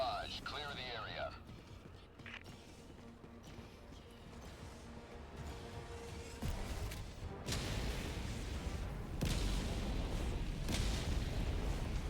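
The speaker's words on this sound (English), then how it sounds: "Firing orbital barrage." An orbital barrage strike in the video game Helldivers 2 rumbles and booms in heavy, overlapping explosions that build toward the end, with a voice talking beneath the blasts.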